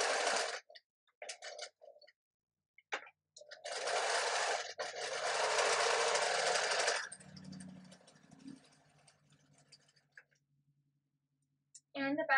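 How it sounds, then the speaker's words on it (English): A sewing machine stitches a seam with back tacks on a phone pillow stand, running in short bursts and then a long steady whir up close, with pauses between runs and a voice talking over parts of it. "Now at the machine, I'm going to sew my seam."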